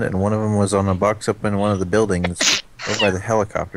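A person sneezes once, sharp and sudden, breaking into ongoing close conversational speech, with talking on both sides of the sneeze.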